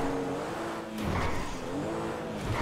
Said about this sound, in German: Boah, der fährt, oh, der fährt gut. Der fährt gut, der Wagen.